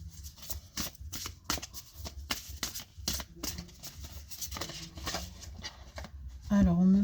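Tarot cards being shuffled by hand in a steady run of crisp riffling flicks, close and moderately loud, with a voice talking over them and a brief tonal sound near the end.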